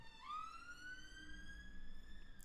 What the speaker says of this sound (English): Some sirens going past in the background here.